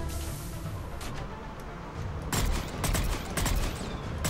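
New rifle firing in the sci-fi shooter Mass Effect 3, a loud burst of rapid shots after a stretch of low rumbling battle noise, with more bursts following.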